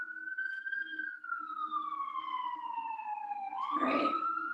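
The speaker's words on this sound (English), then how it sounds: "sorry for the sirens if you can hear them" A wailing siren sweeps slowly down and then rises again, loud and steady, with a low hum underneath and a burst of noise near the end.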